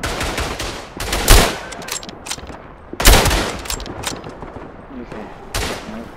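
Machine gun fire in the World War I shooter Tannenberg, with two loud bursts standing out over a continuous crackle of distant battlefield shooting.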